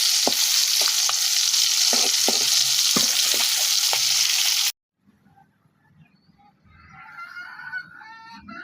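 A snakehead fish frying in hot oil in a pan after being flipped, a loud hissing sizzle with sharp spatters and taps for several seconds, then stopping abruptly into quieter, different background sounds.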